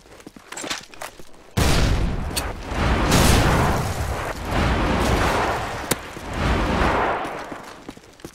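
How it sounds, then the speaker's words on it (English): Airstrike explosions in Call of Duty 4 during a 2 vs 3 match: a sudden heavy blast, then a sustained rolling roar of overlapping booms and rumble for several seconds, loud and close. "Friendly airstrike on the way."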